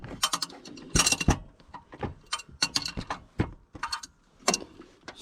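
Loosening the water pump nut on a Chevy Silverado 5.3 Vortec: a run of close ratcheting clicks and metallic wrench clatter in quick uneven bursts, with no talk.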